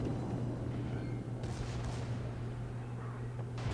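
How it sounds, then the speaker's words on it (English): Gneisenau battleship main guns firing at a Miyoko in World of Warships: a sustained rumbling roar of naval gunfire, with a couple of sharper bursts, loud and continuous with no talk over it. "I'm gonna try to focus down this Miyoko with my front guns and back guns"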